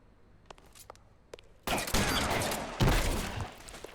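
Heavy gunfire in the L.A. Noire video game, with a shotgun among the weapons: a few faint shots at first, then a loud sustained barrage of blasts with a second burst near the end.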